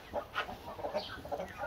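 Chickens cluck in a garden on a hot day, a series of short, separate clucks rising and falling close by over a quiet background.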